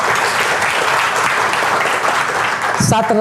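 Audience clapping at a health and marketing seminar, a dense, steady wash of many hands filling the room at close range and ending abruptly with a brief voice.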